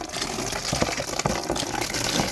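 Water running while something is washed by hand, with a steady gushing splash broken by small knocks and clatters, fairly close and moderately quiet.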